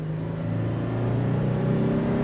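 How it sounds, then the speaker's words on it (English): A 2023 Toyota 4Runner Anniversary Edition engine pulls under throttle, a steady droning hum that rises gradually in pitch and stays loud and close from start to finish. "you are gonna get a bit of engine noise"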